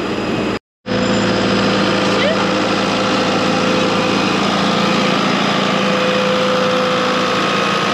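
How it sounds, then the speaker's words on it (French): Tractor engine running steadily in a vineyard during trimming before the grape harvest, a continuous close drone that cuts out briefly near the start and then resumes. "faut que je fasse monter Jessica sur le tracteur"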